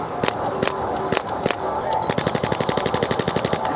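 Metal arcade gun in the Mega Shot shooting game firing, first as a few separate loud shots, then a fast, evenly spaced burst of rapid-fire bangs, with a voice talking faintly underneath.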